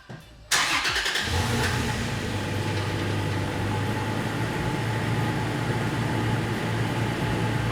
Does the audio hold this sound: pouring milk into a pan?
no